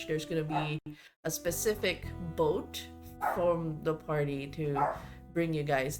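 An old male dog barking at home, short barks heard in the background beneath someone talking continuously.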